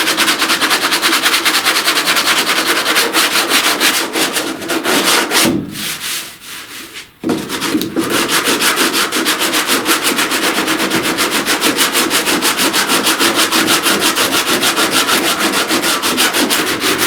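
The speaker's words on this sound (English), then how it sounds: "Be careful about sanding like this. You'll cut big grooves and big valleys and trenches in your filler." Body filler on a truck cab corner is sanded by hand with long, rapid rhythmic rubbing strokes, loud and close. A brief pause comes partway through before the steady scraping resumes.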